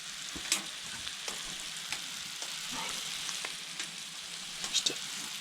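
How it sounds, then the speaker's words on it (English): Fresh garden kale sizzles in butter in a pan on a wood stove, a steady frying hiss broken by a few scrapes and taps of stirring. "Just a tad little extra bit of butter here. We'll stir that around. Cooking on the wood stove."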